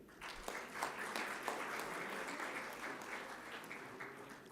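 Steady audience applause at a university convocation ceremony, a dense wash of many hands clapping at moderate distance and sustained throughout.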